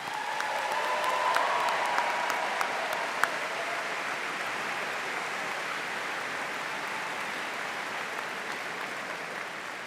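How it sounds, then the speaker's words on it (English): A large commencement audience applauds engineering graduates, a dense steady wash of many hands clapping that holds evenly from a little distance throughout. "Please join me in a round of applause in congratulating these students on this happy occasion."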